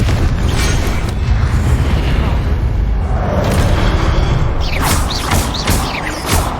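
In the video game Hogwarts Legacy, a Confringo explosive spell blasts with a heavy, booming rumble amid continuous combat noise, followed by several sharp crackling impacts near the end.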